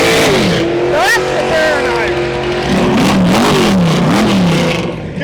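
A drag racing car performs a burnout at Santa Pod Raceway, its loud engine revving and wavering steadily throughout while a commentator talks over the noise.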